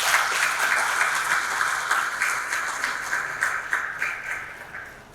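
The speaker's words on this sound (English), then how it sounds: "can we have a big round of applause for ourselves" A large audience at an aviation awards ceremony in India claps steadily and densely for several seconds, loud and sustained.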